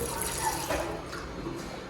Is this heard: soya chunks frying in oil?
no